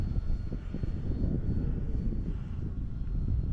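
A Decathlon RC model airplane drones over a runway, its small engine a steady low buzz with wind rumble on the microphone, no voices.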